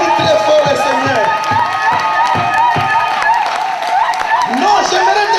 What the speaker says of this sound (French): Applaudissez très fort le Seigneur.